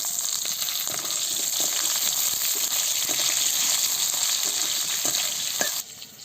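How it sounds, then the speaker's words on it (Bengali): Cut potatoes fry in hot spiced oil for a rohu fish curry with onion stalks, making a loud, steady, close sizzle with light stirring clicks that drops off abruptly at the end. "আলুটাকে খুব ভালো করে ভেজে নেব।"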